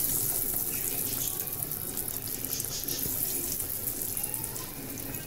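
Chicken nuggets dropped one at a time into oil heated over a low flame, giving a steady, hissing frying sizzle that stays fairly loud throughout with no talking.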